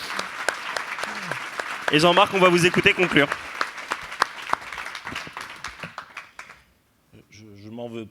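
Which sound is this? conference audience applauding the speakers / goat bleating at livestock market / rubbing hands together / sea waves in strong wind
conference audience applauding the speakers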